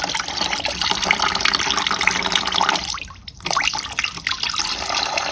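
Coolant pours and splashes steadily as it drains from the radiator of a Mercedes W124 300TD, a continuous close trickling stream that briefly thins out midway before gushing again.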